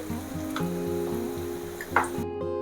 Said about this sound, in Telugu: సిమ్లోనే ఫ్రై చేసుకోవాలి